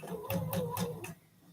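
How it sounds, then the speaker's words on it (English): A sewing machine fitted with a quarter-inch presser foot sews a quilt block in a few quick rhythmic bursts of stitching, close by, then stops, leaving a quiet hum at the end. "So we're going to sew this one here."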